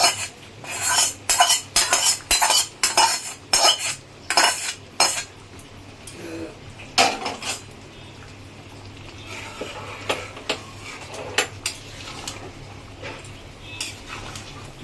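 A spoon scrapes and clinks in a pan as fried brinjal is stirred into a cooking dish, a close run of rhythmic metallic strokes that thin out into scattered clinks over a faint background hum.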